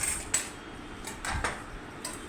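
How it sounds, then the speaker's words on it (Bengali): Brinjal and peanuts are stirred in a cooking pan with a little hot water, giving a few soft scraping knocks of a spoon against metal over a faint background hiss. "ভালো করে নেড়ে দিচ্ছি।"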